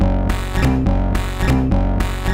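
A techno track playing loud and steady, with pulsing repeated synth chords washed in reverb and spatial effects that give them depth and atmosphere.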